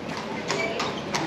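Horse hooves clip-clop on a road in Europe, three evenly spaced, clear knocks over a steady background hiss.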